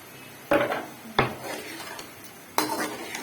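Chopped green chillies go into a pan for kofta and are stir-fried, with three sharp clatters of a spoon against the pan over a low, steady background and no talking.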